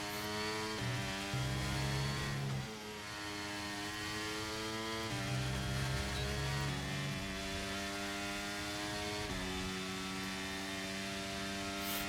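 A Formula 1 car engine in the racing game F1 23 at Barcelona, a steady high-pitched whine with harmonic tones rising and dropping through gear shifts, loud and continuous.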